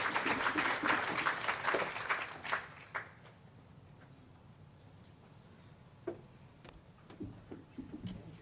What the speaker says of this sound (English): give yourselves a round of applause for your engagement